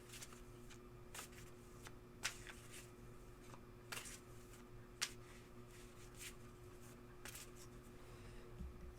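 A deck of tarot-style oracle cards is shuffled by hand at close range, with a series of quick, crisp riffling bursts at an irregular rhythm over a faint steady electrical hum.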